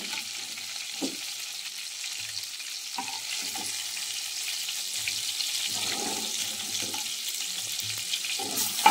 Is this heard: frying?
yes